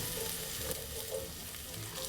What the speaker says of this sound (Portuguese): vou colocar um fio de óleo no fundo da panela, vou acrescentar 3 dentes de alho amassadinhos